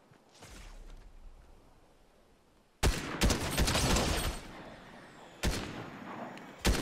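Gunfire in Fortnite: a faint early shot, then a loud close burst of rapid automatic fire, a brief lull, and further sharp volleys near the end.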